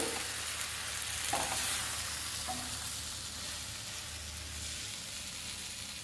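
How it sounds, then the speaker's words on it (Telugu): Ingredients fry steadily in a pan for a chutney, giving a continuous close sizzle with a few faint scrapes and clinks and no talking. "ఇలా ఒకటి తర్వాత ఒకటి వేసుకుంటూ ఫ్రై చేసుకోవాలండి"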